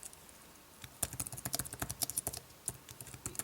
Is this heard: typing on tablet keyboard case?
yes